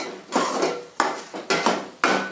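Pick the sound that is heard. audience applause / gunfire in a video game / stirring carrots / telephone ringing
stirring carrots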